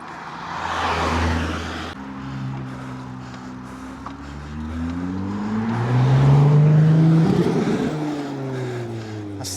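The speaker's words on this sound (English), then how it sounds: "That's the 4th time I've seen this Ferrari up this hill." A Ferrari sports car climbs the zigzag hairpins of the Furka Pass, its engine revving and rising in pitch as it accelerates through gears, swelling louder as it passes nearby.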